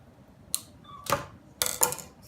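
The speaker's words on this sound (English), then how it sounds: "I may have to use the scissors on this." Scissors snipping through tough plastic wrapping on a blind box toy, about three crisp close cuts spaced a half second apart in a quiet room.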